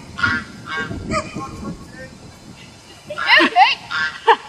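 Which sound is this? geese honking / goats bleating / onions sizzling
geese honking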